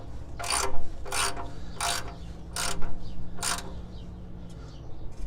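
Half-inch ratchet snugging an oil drain plug on a Chevy 350 small block, five quick clicking ratchet strokes in an even rhythm, close and clear, followed by quieter faint clicks.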